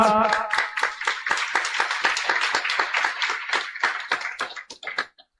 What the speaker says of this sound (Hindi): आइए जोरदार तालियों के साथ